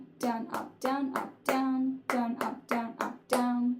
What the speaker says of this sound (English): So I just want you to just clap and say that with me.